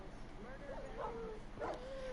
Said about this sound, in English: You're spawning in a shit ton of wolves.